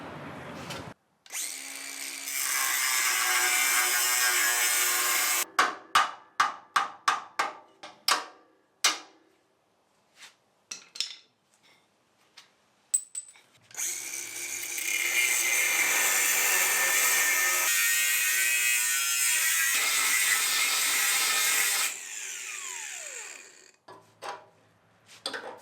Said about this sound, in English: Got to cut off these motor mounts.